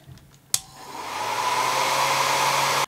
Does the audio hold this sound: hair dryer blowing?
yes